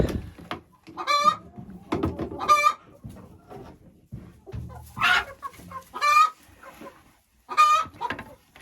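Hens clucking, with several loud, drawn-out calls at uneven intervals over softer low clucks and rustling nearby.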